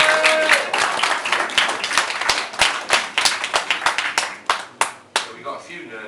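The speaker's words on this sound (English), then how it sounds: "Let's have a round of applause." Live talk audience in Derby gives a round of applause, dense hand clapping close and loud at first, then thinning into scattered individual claps toward the end.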